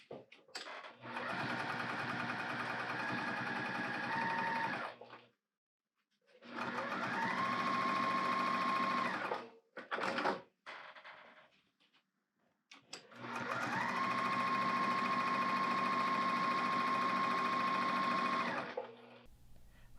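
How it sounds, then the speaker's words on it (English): A sewing machine stitches quilting lines across vinyl for a zipper pouch, running in three long steady bursts with whirring motor hum, separated by short pauses and brief stop-start stitching. "Continue making your lines all the way across and then repeat the sewing that we just did."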